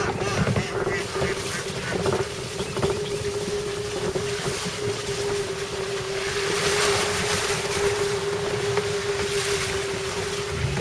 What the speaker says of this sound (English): there's water coming down right here